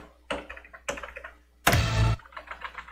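A stiff computer keyboard clacks during a rhythm game, with bursts of hard, close keystrokes separated by brief pauses and one longer, louder cluster of rapid presses.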